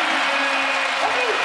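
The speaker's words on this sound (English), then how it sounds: "I like when the whole crowd goes, ooh" Basketball arena crowd during an NBA game letting out a sustained collective 'ooh', a steady roar of many voices filling the whole short moment.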